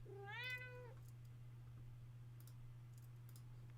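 A single house cat lets out one clear, rising-and-falling meow near the start, close and distinct, followed by quiet room tone with faint clicks and a steady low hum.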